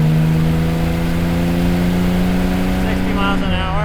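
A 1970 Jaguar XKE E-Type roadster engine pulls steadily under throttle with a smooth, droning hum from inside the car, changing pitch near the end as it shifts, with someone speaking over it.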